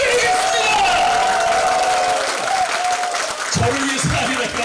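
A concert audience in a lecture-hall healing concert with a crossover singer claps and cheers, the applause loud and sustained throughout with some shouts and voices mixed in.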